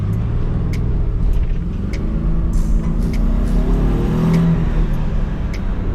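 A Toyota Supra's engine and exhaust drone steadily and loudly from inside the car while driving, with a low rumble and light rises in revs throughout.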